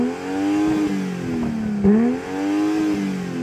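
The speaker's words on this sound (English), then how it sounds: "Go on, rev up your car." A BMW M240i engine revs close by, its exhaust note climbing, dipping briefly at the midpoint, then rising again in a smooth, loud, sustained drone.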